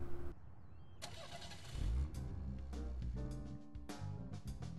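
Video game car engine from Deadly Premonition cranks and catches, then settles into a mid-pitched idle and revs, heard fairly close with a dense mechanical rumble.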